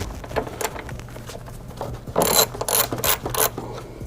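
A ratchet wrench fitted with a 10 mm socket clicks in quick bursts while removing a ground connection on a BMW 335i N54 engine, close and distinct, with a faster flurry of ratcheting toward the end.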